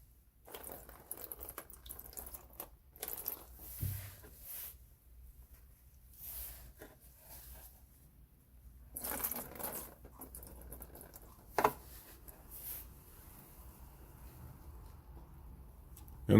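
Water runs and splashes in faint, intermittent bursts over a meteorite sample (NWA 13855) that has just been acid-etched. Quiet pauses separate each rinse.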